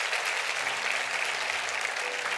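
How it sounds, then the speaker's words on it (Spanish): A church congregation applauds during a sermon, producing continuous, even clapping from many hands at close range for a couple of seconds, with no talking over it. "Vamos, apláudalo a él, apláudalo a él."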